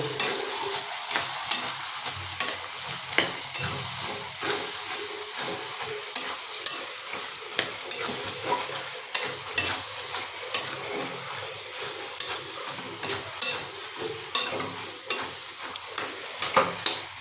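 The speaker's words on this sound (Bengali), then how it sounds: "গরম মশলা যেহেতু আমরা যোগ করেছি তাই এটাকে আমরা মিনিট দুটোর মতো কষাবো" Mutton ghugni with garam masala sizzles in a pan as a spatula stirs it in a steady rhythm, with repeated metallic scrapes and taps over a continuous frying hiss.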